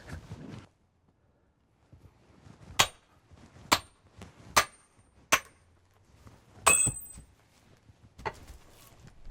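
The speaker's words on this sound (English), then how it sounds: "My first splits are gonna be done with wedges." Wedges hammered into a log to split it for chairmaking, giving about six sharp, ringing metal strikes spaced a second or so apart, near and loud, with faint woody cracking between blows.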